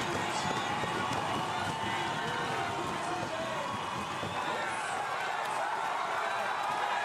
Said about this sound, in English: And listen to the crowd react